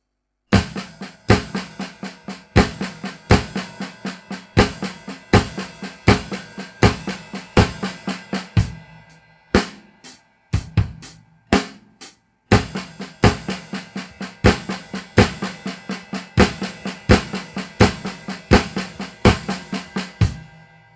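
A drum kit plays a steady, punchy flam rudiment pattern of doubled grace-note strokes, dense and rhythmic, with a brief sparser break midway before resuming.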